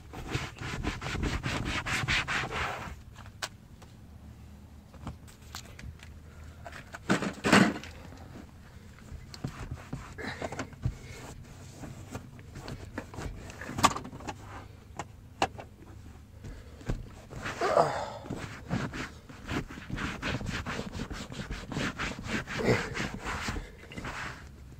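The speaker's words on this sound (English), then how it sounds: "So at this point, I'm just rubbing all the dirt I can." Someone scrubs dirt off the wet seat of an older Buick during detailing, a close, repeated rubbing and brushing with bursts of vigorous strokes between quieter pauses.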